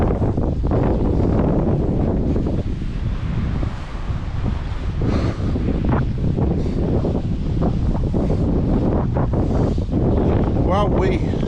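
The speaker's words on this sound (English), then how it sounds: "wind's at an all-time high" Strong wind on seaside rocks buffets the microphone in loud, continuous gusts, with surf-like roar underneath and no pauses.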